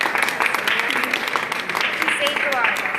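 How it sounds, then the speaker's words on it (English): A gathered crowd at an outdoor gathering breaks into a round of applause, a dense, steady patter of clapping with voices and cheering mixed in throughout. "Can we give first a round of applause for one of God's angels, Francisco?"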